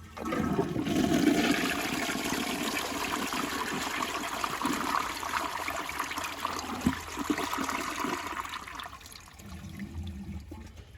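A 2006 Jacuzzi Perfecta toilet flushes with a loud, close rush of water that swirls steadily for about nine seconds, then drops to a quieter trickling refill at the end.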